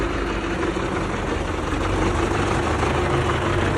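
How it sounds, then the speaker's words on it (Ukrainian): A YuMZ excavator tractor's heavy diesel engine idles steadily and loudly up close, a constant low rumble with a faint hum above it and no voices. "Маємо ось такого юмза екскаватора"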